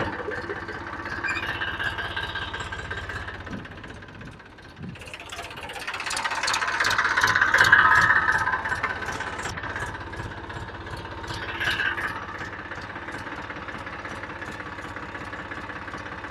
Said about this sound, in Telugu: చెల్లో, మన దగ్గర ట్రాక్టర్ ఉంది.